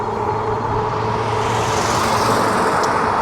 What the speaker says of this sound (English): Car sounds like shit, but thank God he's got Jesus on his back.